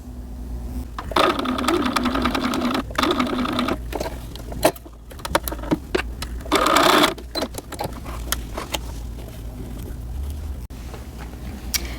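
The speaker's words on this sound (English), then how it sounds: "So I'm going to sew from here to the circle and then pivot and sew straight across." A sewing machine stitching a seam on a pair of shorts whirs steadily up close, with a few brief stops and clicks as the work pivots before the stitching resumes.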